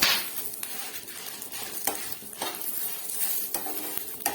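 Dry red chillies fry in oil in a pan for tomato sambar, a continuous bright sizzle with scraping stirs and occasional clinks of a spoon against the pan, close and steady.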